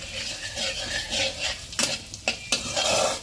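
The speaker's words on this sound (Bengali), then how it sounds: "রসুনটা একটু নাড়াচাড়া করে নিচ্ছি কাঁচা গন্ধটা যাওয়ার জন্য" Garlic being stirred in a pan as flour goes in for a white sauce, a steady close scraping sizzle broken by a few sharp clinks of the spoon against the pan near the end.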